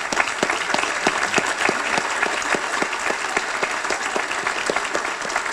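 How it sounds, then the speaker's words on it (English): Sustained round of applause from an audience at a brunch event on a bay, steady dense clapping filling the room. "Please stand for a round of applause."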